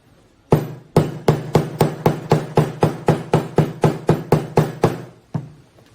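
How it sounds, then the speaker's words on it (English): A hammer strikes leather laid over a silver piece about fourteen times in a steady, even rhythm, each blow a loud, sharp, close thud with no talking. "I'm going to take a hammer and give it a bit of a whack"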